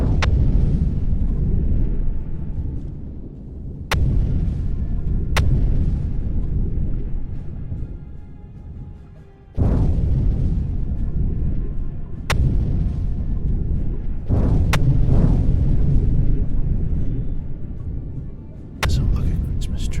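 Bomb explosions in the submarine game UBOAT come as repeated loud, deep booming blasts, some with sharp cracking onsets, rolling one after another across the whole stretch with a continuous rumble between them.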